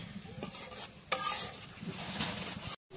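Spice masala with soya chunks being stirred in a frying pan, a steady sizzle with scraping strokes of a spoon against the pan and one sharp clink, close and fairly quiet.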